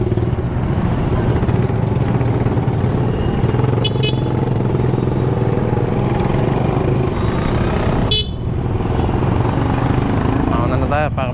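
A tricycle's small motorcycle-type engine drones steadily while driving, close and continuous, with a voice speaking over it.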